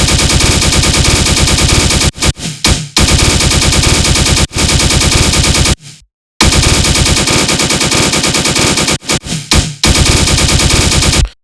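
A synthesized tearout machine-gun bass in the style of Marauda: harsh, rapid-fire distorted bursts that hammer in long loud runs, broken by short stuttering gaps and one brief silence midway.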